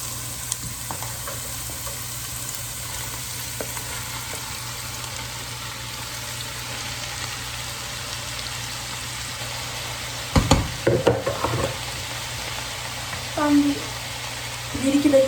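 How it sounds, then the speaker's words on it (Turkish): Fresh spinach fries in a pan with a soft, constant sizzling hiss, broken late by a burst of clattering stirring and a few short utensil knocks. "Şimdi ıspanaklarımı ekliyorum."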